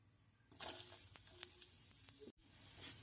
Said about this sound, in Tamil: காய்ந்த மிளகாய் இரண்டு நாம் மல்லி நன்றாக வறுப்படுவோம்